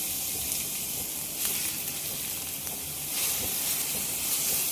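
Finely sliced onion sizzles in about a spoon of hot oil for a Malvani chicken curry masala, a continuous close hiss and crackle that swells slightly as the pieces are stirred.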